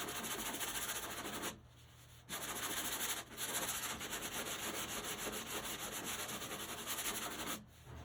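Car bodywork on a 1974 Triumph TR6 sanded by hand with sandpaper, a close, steady rasping scrub broken by two short pauses, with no talking.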